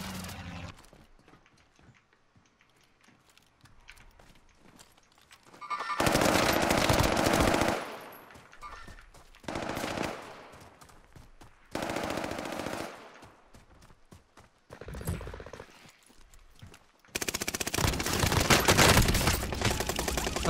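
Loud automatic gunfire in the video game Warzone comes in several long bursts, each a few seconds apart, with quieter gaps of distant game noise between them.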